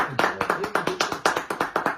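A small crowd claps in a steady, quick rhythm for an Erdoğan voice imitator, each distinct hand clap close and crisp, with brief voices faintly mixed in.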